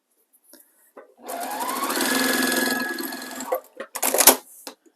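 A sewing machine chain-piecing Trip Around the World quilt blocks runs in one steady, fairly loud burst of stitching for about two and a half seconds, followed by a few sharp clicks and handling noises.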